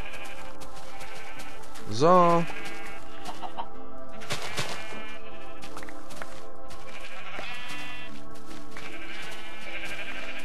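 Sheep in the video game Minecraft letting out a loud bleat about two seconds in, amid game sound effects and a few chicken-like clucks, with someone talking briefly.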